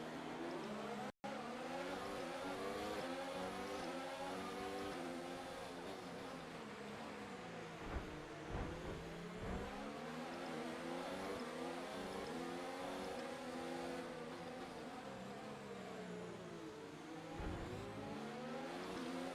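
Race car engines in the F1 2019 video game, Azerbaijan round, rev and accelerate in a loud, continuous field of rising and falling engine tones at the race start, with occasional sharp bursts.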